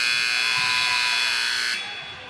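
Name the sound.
basketball game buzzer at end of half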